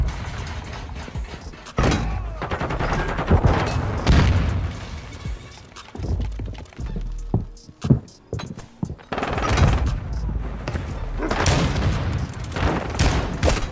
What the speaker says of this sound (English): He's using a shotgun, dude.